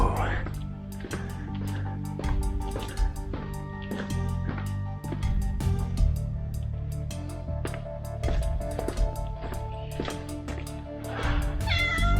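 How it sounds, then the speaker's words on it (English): A cat meows repeatedly in a Greek village, a series of close, clear, drawn-out mews spaced every second or so, with people talking under and between the calls. "Meow."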